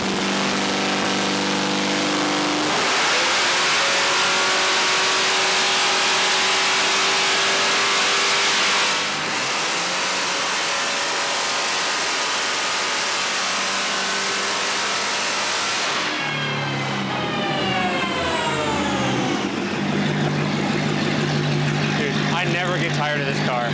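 A Hellcat-swapped Dodge Viper on a dyno with nitrous roars loudly under sustained heavy revving, the pitch climbing through several surges before falling off and settling into a rough, lumpy idle near the end.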